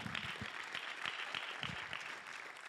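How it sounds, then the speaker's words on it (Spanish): A church congregation applauds the Lord, with a dense, steady wash of clapping hands sustained throughout at a moderate distance. "Dar un aplauso fuerte al Señor."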